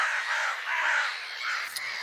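Several crows caw in a video game, harsh overlapping calls that run continuously at close range with no speech.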